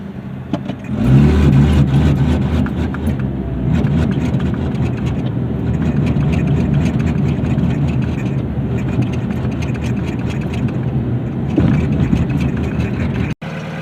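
A 2005 Dodge Neon engine with a faulty cam position sensor runs rough, a steady loud uneven idle with irregular stumbles throughout, and no talking.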